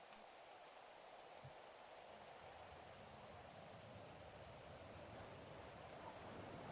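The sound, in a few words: rain falling in a video game (GTA V NoPixel)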